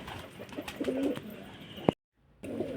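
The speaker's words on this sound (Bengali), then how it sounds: "এটা একটা মিচুয়া পায়রা ম্যাডাসি" A pigeon coos softly in low, rolling calls, close by, with a sharp click and a brief silent gap before the cooing resumes.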